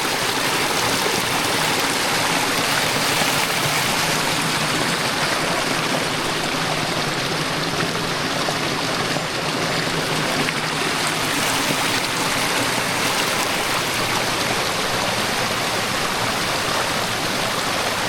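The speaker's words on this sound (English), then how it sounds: "we're back out at the bottom of the creek that feeds that water race" Creek water rushing steadily where it feeds a diverted water race at Piano Flat on a rainy day, a loud, continuous broadband roar with no break and no voices.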